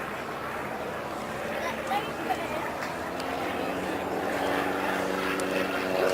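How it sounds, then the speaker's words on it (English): A synchronised pair of de Havilland Canada Chipmunk T10 propeller trainers looping in opposition at the Duxford autumn air show, a steady distant engine drone that swells slightly, under continuous commentary. "nice synchronised pair of Chipmunk T10s, both provided by the aircraft restoration company, looping in opposition to commence their display."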